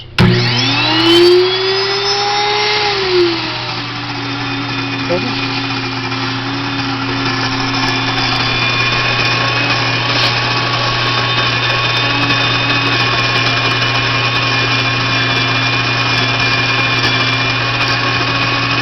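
A steady mechanical whine with a motor hum from a WonderMill electric grain mill grinding starts abruptly and runs continuously, loud and close, with sustained tonal overtones and no voices.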